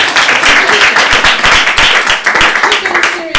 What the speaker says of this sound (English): So round of applause for all you guys.